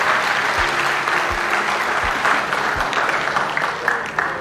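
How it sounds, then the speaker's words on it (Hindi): Audience at a Congress party minority department event applauding for Mohsina Kidwai, sustained loud hall-filling clapping with a few low thumps, no speech over it. "चाहता हूँ एक बार जोरदार ताली बजा करके मोहसिना जी के लिए"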